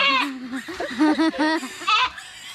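A young goat bleating several times in quick succession, loud and close, with wavering nasal cries.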